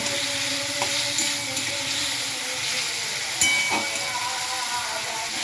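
Chili and cumin powder frying and being stirred in a pan for a papaya and egg curry, a steady close sizzle and hiss with a few light scraping stirs, no talking.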